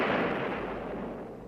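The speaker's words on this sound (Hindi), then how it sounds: "सवेरा होते ही झांसी की तोपें फिर गरजने लगी।" A cannon booms in a film about the 1857 siege of Jhansi, one loud blast at the start that decays into a long rolling rumble.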